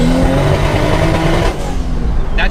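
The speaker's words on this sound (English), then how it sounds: "That traction control cutting that whole time, that popping noise, it's trying to cut power." A single-turbo MKIV Supra climbs a hill with traction control on, its loud, close engine note stuttering with rapid popping as power is cut, a continuous rough drone without talk.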